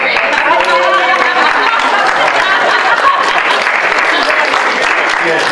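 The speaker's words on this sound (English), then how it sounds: "You have no idea why you're applauding for it" An audience at a school board meeting claps steadily for several seconds, a close, dense patter of applause with faint chatter underneath.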